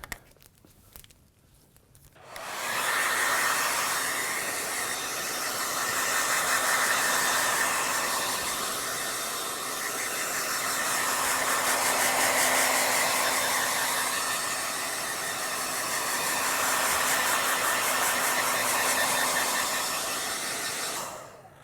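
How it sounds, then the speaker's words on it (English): A hair dryer on medium heat runs for about 19 seconds after a brief quiet start, drying a silk screen in a studio. It is a steady, close, broadband whoosh with a faint motor hum and small swells in loudness, and no voices. "And just get your hairdryer."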